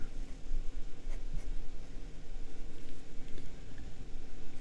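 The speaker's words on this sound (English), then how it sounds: "And we're back with the writing portion of the review." A fountain pen with a steel medium nib, size 6, scratches steadily across Clairefontaine 90 gsm paper in a close, quiet run of continuous strokes with no talking.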